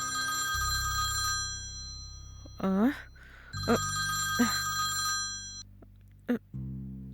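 A telephone ringing in a domestic scene, its steady electronic tone sounding in repeated bursts with short gaps, while people talk over and between the rings.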